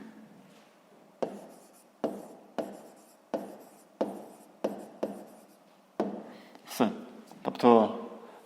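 Handwriting a fifth-grade math solution, likely chalk on a board: a series of short, crisp strokes in an uneven rhythm, growing busier toward the end, heard up close.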